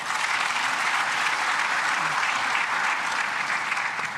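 Audience at a panel discussion on African borderlands and security applauding, a dense, even clapping from a full room that stays loud and steady throughout.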